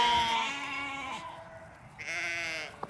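Sheep bleat on a dairy sheep farm during weaning, two long wavering calls with a short gap between them, close and clear with no talking.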